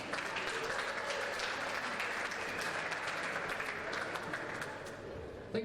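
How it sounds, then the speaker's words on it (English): Spectators at the World Junior Squash Championships finals applaud the winners, a sustained crowd clapping that holds steady and then tapers off near the end. "Give them a big applause."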